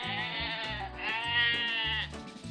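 Sheep bleating in a children's educational cartoon, a wavering, drawn-out bleat repeated over a bouncy musical backing.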